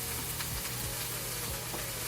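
Food sautés in a pan over high flame for a full brown roast, a dense, continuous sizzle and crackle that holds steady and close throughout, with no voices over it.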